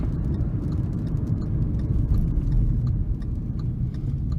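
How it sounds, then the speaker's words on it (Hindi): Hyundai Venue 1.2 petrol slowing under braking from about 60, a steady low road and engine rumble with tyre noise inside the cabin, easing slightly toward the end. "we are driving at about 60 right now. And I'll apply the brakes now."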